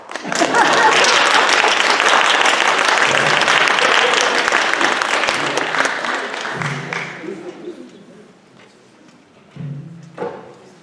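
Concert audience applauding at a spring group program showcase, loud dense clapping for about seven seconds that then thins and fades, followed by a voice speaking near the end.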